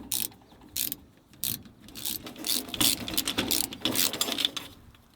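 A ratchet clicks in quick bursts while tightening during a fuel pump repair on a 1991 Oldsmobile Ninety-Eight Touring Sedan, with rapid close pawl ticks in several short runs separated by brief pauses.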